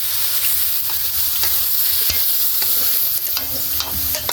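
Sliced bitter melon (ampalaya) frying in a hot pan for sautéed ampalaya, with a loud, dense continuous sizzle broken by sharp stirring clicks and scrapes near the mic.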